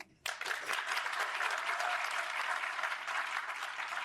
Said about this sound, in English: I would also like to give a round of applause to these beautiful ladies and the handsome gentlemen